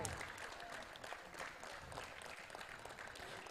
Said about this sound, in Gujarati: આર્યન માટે જોરદાર તાળી વાગવી પડે ભાઈ.